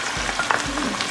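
Onion goes into a pan of chicken that is already frying in a home kitchen, and a utensil stirs it through. Steady sizzling runs under a few soft scraping strokes, close and clear, with no talking.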